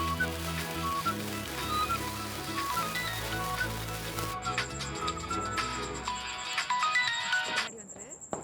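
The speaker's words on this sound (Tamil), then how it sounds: "ஏமா ஃபோன் அடிக்குது." A phone ringtone plays a repeating electronic melody over background music, cutting off near the end.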